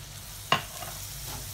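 Tomato purée with spices being fried in a pan for Bhopali aloo bharta, a low steady sizzle with one sharp scrape or clink of a spoon early on, no talking.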